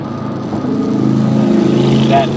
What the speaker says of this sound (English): I thought that motorcycle was going to cut me off.